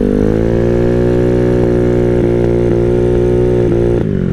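A Honda Ruckus scooter built for 70 mph, its engine droning loud and steady from up close while being ridden, the pitch holding almost level with slight dips and small shifts.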